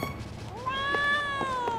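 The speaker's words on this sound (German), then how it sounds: "Kätzchen." A single drawn-out meow from a cat character in the video game Trials of Mana, bright and rising then gently falling, heard clearly over faint game background sounds.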